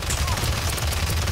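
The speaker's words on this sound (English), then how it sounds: "Enemies are firing on me." Dense, continuous enemy gunfire in the shooter game Paladins, a steady rattling barrage filling the whole moment at fairly close range.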